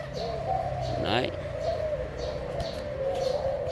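A pair of hand-tame caged doves coo close by in soft, warbling low calls, with a few chirps and brief rustles, while someone talks over them.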